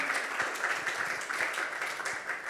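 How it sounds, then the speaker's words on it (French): Moderate audience applause at a startup ceremony held by the Île-de-France region, steady scattered clapping from a seated crowd heard at some distance. "Benjamin, on vous applaudit au nom de la Région Île-de-France"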